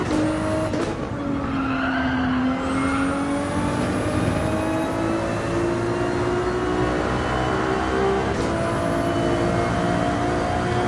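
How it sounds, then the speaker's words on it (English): A Ferrari 296 GTB race car accelerates hard in a racing video game, its engine howling loud and steady with rising pitch sweeps through gear changes and tire squeal, no voices over it. "this 296 GTV has a good amount of acceleration coming off"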